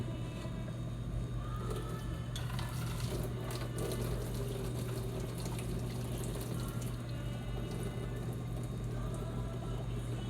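Water from a pot of noodles pours steadily through a strainer into a kitchen sink, a continuous rushing splash over a low hum that holds for the full length with no talking.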